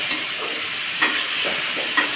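Dried fish fries in a pan with other ingredients for a mashed side dish, a constant bright sizzle broken by a few rhythmic stirring scrapes, close and without voices.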